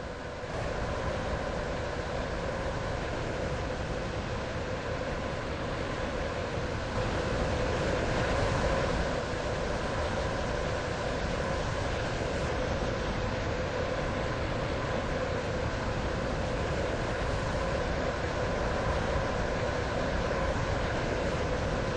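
A Class 707 train in the Roblox game Stepford County Railway runs on from Stepford Central toward Port Benton: a constant, unbroken broadband rumble and rush of wheels and motor that holds at an even level throughout.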